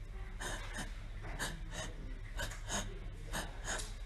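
A man recovering from COVID-19 imitates his laboured breathing during the illness with short, rapid, raspy breaths in quick pairs, close and fairly quiet, and no words are spoken.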